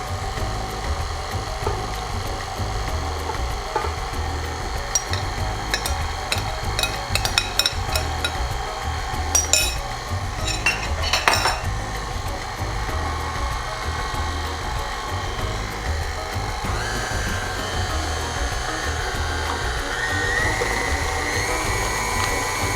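An electric mixer beats almond flour bread batter for a low-carb, gluten-free loaf. A steady, loud whirring drone runs throughout, with scattered clattering bursts of the beaters against the bowl.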